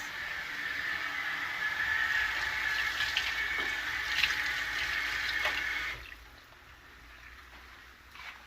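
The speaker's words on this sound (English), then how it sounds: "Let's just go ahead and put some water in there" Tap water runs steadily into a cooking pot on a kitchen stove for grits, a close continuous gushing rush that cuts off abruptly after about six seconds, leaving quiet room tone.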